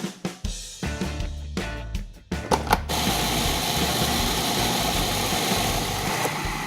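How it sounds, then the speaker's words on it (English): Peppers being ground for sriracha, opening with several short knocks and pulses before a steady, loud motorized whir runs continuously to the end without talk. "So let's start grinding these up"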